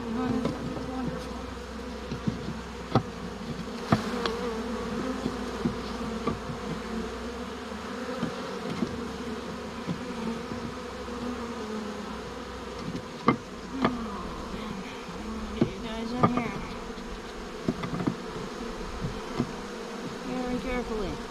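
A honeybee swarm drones loudly and continuously around a hive during a swarm capture, with a few knocks and bumps from handling the hive box.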